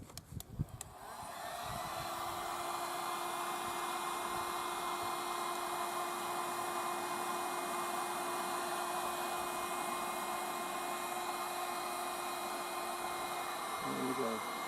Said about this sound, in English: heat gun out, and we're going to work from the centre back again